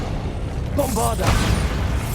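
The Bombarda blasting spell goes off in Hogwarts Legacy as a sudden booming blast that rumbles on, with a voice heard just as it strikes.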